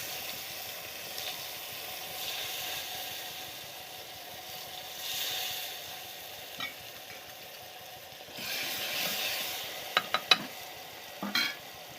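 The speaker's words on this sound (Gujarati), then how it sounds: "પછી નાખી દઈશું આપણે ડુંગળી થોડી વાર આપણે એને તેલમાં સડવા દઈએ" Onion frying in oil in a pan for a bottle gourd curry gives a steady, moderate sizzle throughout, ending with a few sharp clinks and scrapes of a spoon against the pan.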